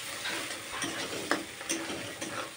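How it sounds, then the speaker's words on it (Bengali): Spice paste frying in oil for a Bengali katla fish kalia, a soft continuous sizzle with light scraping stirs and small ticking pops, fairly quiet and close. "আরও কিছুক্ষণ মশলাটাকে ভাজতে হবে"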